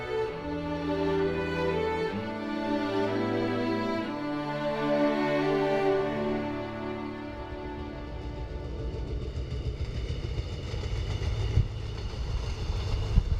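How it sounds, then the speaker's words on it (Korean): A train on the Gyeongjeon Line rolls along steadily with a continuous low rumble and rattle, a tonal hum fading into broadband track noise as it moves. "열차는 다시 길을 재촉한다"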